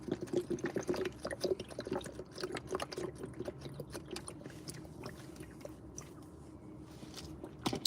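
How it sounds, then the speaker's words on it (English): A man gulps and slurps water for several seconds, with close, wet swallowing and mouth sounds in an uneven rhythm that trails off toward the end. "That's how a real man drinks water."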